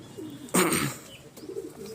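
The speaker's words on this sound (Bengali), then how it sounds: "দেখুন পায়রাগুলো সব চালে ছেড়েছি" Pigeons at a home pigeon loft in the morning give low cooing murmurs, with a louder burst of fluttering or wingbeat noise midway, close and moderately loud.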